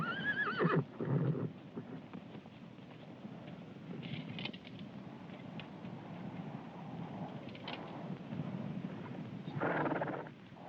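Horses whinny and snort nearby, a loud neigh at the start and another near the end, over a steady low rumble of movement.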